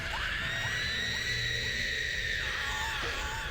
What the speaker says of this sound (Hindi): पीछे से गांव वालों के चिल्लाने की आवाज आई